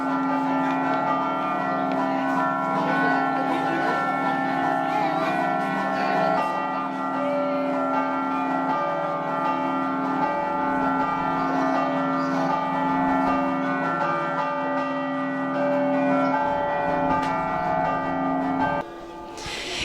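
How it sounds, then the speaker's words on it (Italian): Church bells rung festively by hand by the Scampanotadors del Goriziano after a Friulian Mass in Capriva, ringing steadily and loudly in a sustained peal of overlapping tones for the whole stretch. "accompagnata all'uscita dalle campane suonate a festa dagli Scampanotadors del Goriziano"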